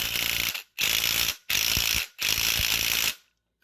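A ratcheting wrench turns an engine bolt on a 1999 Neon being revived after a hydrolock, giving four loud, close bursts of rapid ratchet clicks separated by short pauses.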